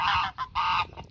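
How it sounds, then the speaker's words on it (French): A Toulouse dewlap gander honks on a poultry farm, two loud, harsh, nasal honks close by, separated by a short break, followed by softer trailing calls. "On peut apercevoir le jar de Toulouse à bavette qui s'intègre très bien."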